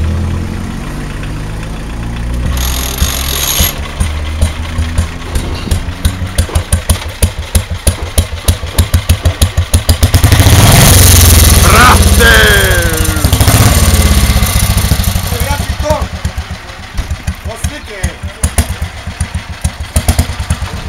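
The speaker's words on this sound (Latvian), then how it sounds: "Snimaj kako se pali motor." A motorcycle engine kick-started, sputtering into a rapid loud put-put rhythm, revving up sharply mid-way, then settling back into an uneven idle close by.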